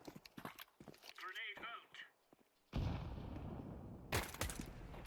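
Gunfire in the video game Counter-Strike 2, a sudden loud burst of shots that rings out and decays, following quieter footsteps and other in-game sounds.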